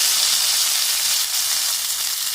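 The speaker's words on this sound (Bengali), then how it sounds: "এখন আমি আগে থেকে রেডি করে রাখা নুডলস এবং পাস্তাগুলোকে ছেড়ে দিচ্ছি" Prepared noodles and pasta dropped into hot oil with fried onion and chilli set up a loud, constant hiss and crackle at close range, steady from start to finish without any voices.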